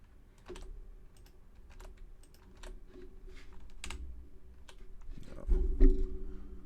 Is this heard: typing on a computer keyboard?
yes